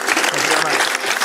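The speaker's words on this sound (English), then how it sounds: "Give a round of applause." Brief burst of podcast studio applause closing a .NET Rocks episode with a guest, dense and steady with a voice faintly mixed in.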